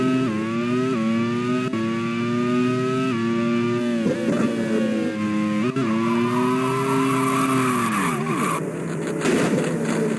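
An Opel racing car in a Grand Prix World Series race at the Caribbean Grand Prix crashes into the barrier. A loud engine whine holds steady, then drops sharply into tire squeal and a scraping impact, with the roar continuing to the end.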